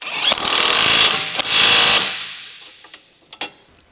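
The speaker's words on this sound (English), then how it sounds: "Use the electric impact wrench to tighten the bolts." An electric impact wrench tightens control arm bushing bolts on a Chevrolet Cruze, sounding as two loud, close bursts of rapid hammering. Each burst trails off, and a few sharp metallic clanks follow.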